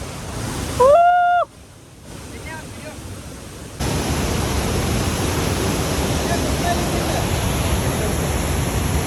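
Dudhsagar waterfall on the Goa–Karnataka border roars as a broad, constant wash of rushing water, loud and steady, after a brief opening of chirps and a quieter gap.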